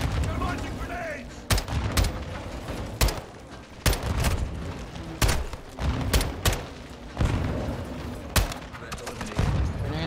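Gunfire and grenade blasts in Call of Duty Modern Warfare 2, with loud sharp shots and booming explosions in irregular bursts at close range over a constant battle din, while voices shout now and then.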